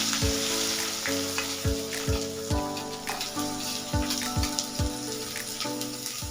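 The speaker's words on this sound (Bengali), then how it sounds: "তেলের ওপর আগে দেব দুটো তেজপাতা, এরপর দেব পেঁয়াজ কুচি" Chopped onion and bay leaves go into hot oil in a kadai for a spicy crab dish, a busy close sizzle with soft crackles and repeated stirring or scraping sounds, no talk.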